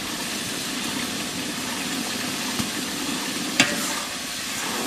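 Garam masala and cumin paste frying in a pan while being stirred, a constant loud hiss and sizzle with a couple of sharp clacks from the utensil, and no talk over it.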